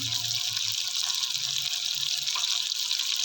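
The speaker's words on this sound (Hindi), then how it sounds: "तकरीबन 1 लीटर पानी शामिल कर देंगे।" Water pours steadily into a pot of browned mutton for a mutton kadhai, a continuous close splashing gush with a faint voice underneath.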